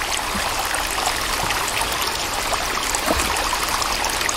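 Water flows steadily in the survival game Sons of the Forest, a continuous rushing, trickling stream that stays loud and even throughout with no voices.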